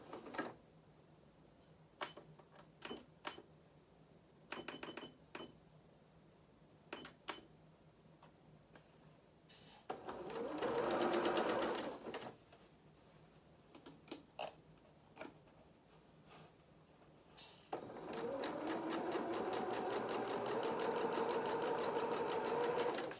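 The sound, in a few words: sewing machine stitching doll culottes side seams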